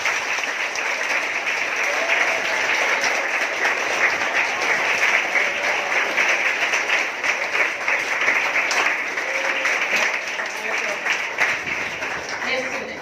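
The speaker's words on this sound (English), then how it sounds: "Give him a very good applause" A school audience applauds a student at a French national day celebration at a CBSE school in Puducherry, a loud, continuous burst of many hands clapping that holds steady from start to finish, with faint voices beneath.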